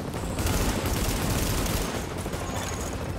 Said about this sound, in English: They've seen us, so I start shooting them.